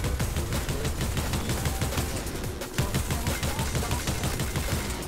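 Gunfire in a shooter video game, with a dense, continuous rattle of rapid shots and explosive cracks that stays loud and steady throughout, with no voice over it.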